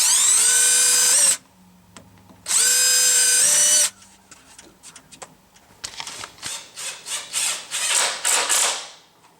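A power drill whirs through wood in two steady bursts, pre-drilling holes in door extension jambs, followed by scraping, rubbing and rhythmic rasping sounds, close and loud.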